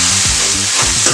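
Purslane leaf and tomato curry being stirred in a pan, a loud continuous sizzle with scraping stirring strokes across the bottom, close up and without talk.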